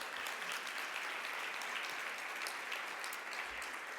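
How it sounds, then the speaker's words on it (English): An audience applauding Tony at a conversation event, a steady, moderately distant burst of many hands clapping that carries evenly for a few seconds. "so round of applause for Tony"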